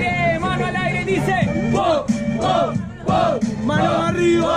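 A crowd at a freestyle rap battle shouting and cheering together in loud rising whoops, with voices chanting in bursts over the noise and no clear clapping.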